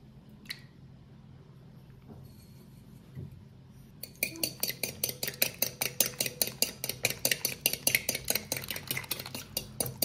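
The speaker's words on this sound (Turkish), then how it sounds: "Tuzla yumurtayı bir güzel çırptım." Egg and salt whisked in a bowl: after a few quiet seconds, a fast, steady run of close, crisp clinking strokes of a whisk against the bowl continues to the end, with no talking.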